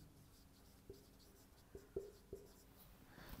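Chalk or marker taps and strokes on a board during a physics lecture, a few faint, sharp knocks spaced irregularly over a quiet room background.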